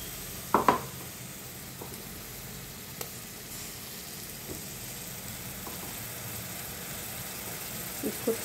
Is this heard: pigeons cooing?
no